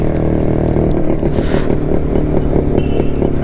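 A 1972 Jawa motorcycle engine while riding, a loud close rhythmic thumping throb that carries steadily throughout, with rattling and wind noise on top.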